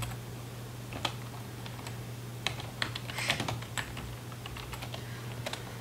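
Someone types on a computer keyboard, with rapid irregular key clicks and occasional louder taps, close and clear against a faint steady hum.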